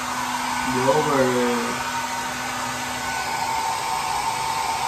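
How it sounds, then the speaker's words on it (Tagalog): An electric blower, brought out while making a cup kite, runs with a steady broadband whoosh throughout, its pitch wavering briefly near the start under a faint voice. "Ito guys yung blower."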